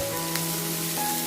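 Ginger and green chillies frying in hot oil for a jackfruit seed roast give a steady, even sizzle with no gaps, close and moderately loud, with no voices over it.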